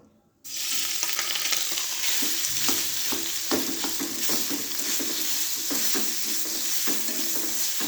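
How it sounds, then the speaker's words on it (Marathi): Curdled milk sizzling and frying in ghee in a pan, with a loud steady hiss and frequent scraping stirs, close up and continuous after a sudden start, no talk. "इथं मी अर्धा चमचा तूप टाकलं आहे आपण त्या तुपामध्ये हे दूध टाकणार आहोत"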